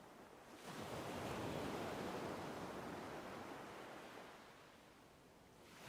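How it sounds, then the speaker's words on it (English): Ocean waves wash in a soft sleep-story ambience, one broad surge rising and slowly receding as a steady hiss, faint and alone with no voices. "leaving only the rhythmic murmur of waves below"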